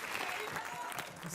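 A studio audience at a French TV game show applauds in a dense, steady wash of clapping, with a voice talking over it.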